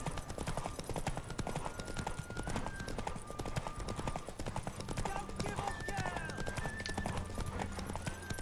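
Rapid, rhythmic hoofbeats pound continuously as a horse gallops close by in a race in The Witcher 3 video game, with voices speaking over the drumming hooves.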